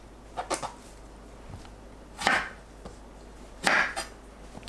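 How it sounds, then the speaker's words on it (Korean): A knife slicing a long eggplant into 10 cm lengths on a cutting board for stir-fried eggplant, with a few distinct chopping thuds spaced apart and close by, each a short crisp cut through the vegetable. "길이가 긴 가지를 3, 4등분해서 10cm 길이로 썰어주세요."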